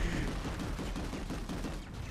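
Sustained automatic weapon fire from a Planetside 2 firefight, dense and continuous bursts layered with rumbling battle noise at a steady, loud level throughout.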